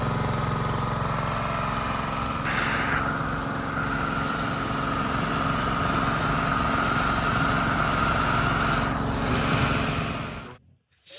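Payoo TGF-220A three-cylinder sprayer pump driven by a 6.5HP engine runs steadily nearby, a loud, even mechanical drone with a high whine that shifts partway through, cutting out abruptly near the end.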